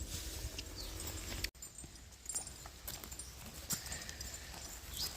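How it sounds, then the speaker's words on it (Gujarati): Horse hooves clip-clop at a steady walking rhythm during a ride on a farm mare, close by and fairly loud over outdoor background noise, with a brief dropout partway through. "આપણે હોર્સ રાઇડિંગ કરી છે."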